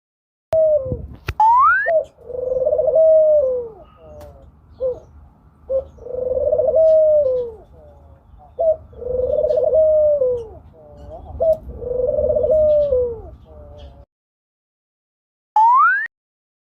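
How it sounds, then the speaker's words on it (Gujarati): A dove gives repeated soft, low coos in rhythmic phrases, close and clear, with brief pauses between bursts and a short rising whistle-like call near the start and end; no talking. "આ છે હોલું જેને અંગ્રેજીમાં ડવ કહે છે બાળકો હવે આપણે હોલાનો અવાજ સાંભળીએ"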